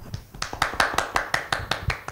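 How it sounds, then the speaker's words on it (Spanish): Rhythmic clapping in unison for a contest winner named Ricky on a live afternoon show, about a dozen evenly spaced sharp claps, moderately close and steady. "Te mandamos este aplauso para que te llegue al corazón"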